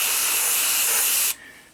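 Close, steady hiss of orange paint sprayed from an airbrush onto a model, running continuously for over a second before cutting off sharply, with no talking.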